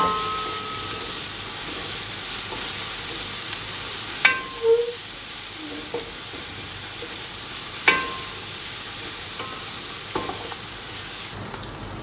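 Ginger garlic paste frying in a pan while being mixed, a continuous hissing sizzle with a few sharp utensil taps and scrapes against the pan.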